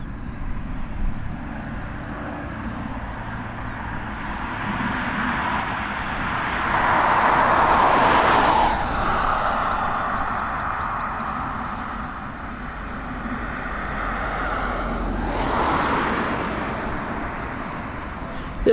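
An airliner taxis at Dublin Airport, a broad, rumbling jet-engine roar heard from a distance that swells and fades in slow waves, with a higher whine rising near the end.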